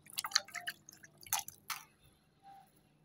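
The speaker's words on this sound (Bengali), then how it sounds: "চাউল ধুয়ে নিলাম" Rice being rinsed in water in a home kitchen before cooking khichuri, heard as a few close, splashy bursts and drips that trail off into quiet.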